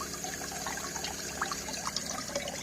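Water mixed with pink antifreeze runs from a small 110-volt electric tankless water heater in an RV, a steady close trickling pour with faint splashes and no speech.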